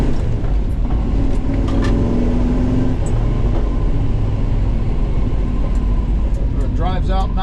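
A 1969 Pontiac Acadian SS on a test drive, its steady engine and road rumble filling the cabin continuously, with a voice talking over it.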